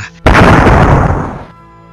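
Animated explosion of energy in a fantasy battle: a sudden loud broadband blast that erupts after a brief quiet, rumbles and roars for over a second, then cuts off into a low lingering tail.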